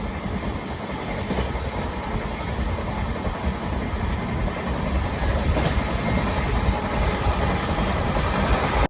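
A Satavahana Superfast Intercity Express with LHB coaches gathers speed on the line near Kazipet Junction, a steady loud rumble of wheels on rail with faint clickety-clack throughout, heard from on board.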